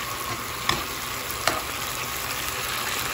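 Chili peppers fry in hot oil for red posole, a steady broadband sizzle with a couple of sharp pops or stirring clicks, close and continuous with no talking.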